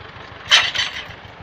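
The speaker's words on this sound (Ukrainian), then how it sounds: "Ми маємо трактор Т-25" A T-25 tractor fitted with a row cultivator runs with a low, steady throbbing idle, topped briefly by a louder burst of noise.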